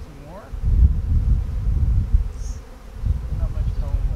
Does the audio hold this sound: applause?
no